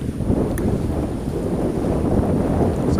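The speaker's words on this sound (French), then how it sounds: "Mais le vent lui est presque toujours aussi fort" Strong wind roars steadily across the microphone aboard a sailboat at sea off Porquerolles, with a broad rushing noise like open water and sea spray beneath it, loud and continuous.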